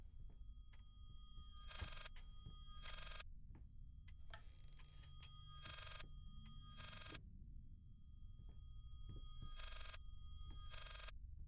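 A telephone in the Layers of Fear video game rings in repeated bursts of bright, metallic bell ringing separated by short gaps, over a quiet low background hum.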